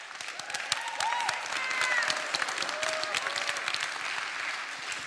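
An audience claps steadily through a motivational talk, dense hand claps filling the room at moderate loudness, with a few brief whoops and voices rising over the clapping.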